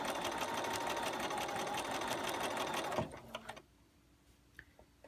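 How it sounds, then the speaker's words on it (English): A sewing machine stitches quilt pieces together for a beginner constellation quilt, a steady close whirring run that stops about three seconds in, followed by a few faint handling clicks in near silence. "just sew down what we call side 2"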